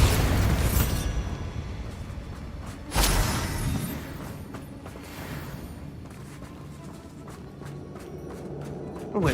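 In the video game Hogwarts Legacy, a Bombarda explosion spell booms out loudly at the start, a second blast hits a few seconds later, and then a rumbling tail, scattered impacts and footstep-like movement carry on behind.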